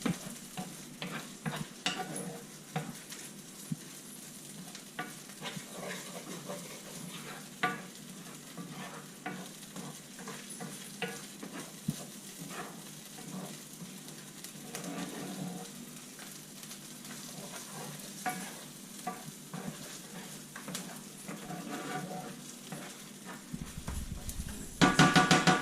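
Chorizo sausage sizzles and crackles steadily in a pan, with a metal utensil scraping and stirring through it at irregular intervals; the frying stays close and fairly even throughout, with no talking.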